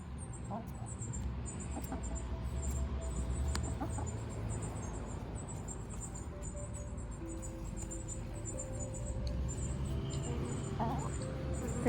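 Backyard chickens cluck softly outdoors while pecking at a huge cucumber, with faint, repeated high chirps and clucks over low background noise.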